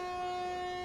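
A train pulling into Surathkal railway station, likely the Murudeswar Express, sounds a loud, steady horn in one brief, sustained blast with no talking.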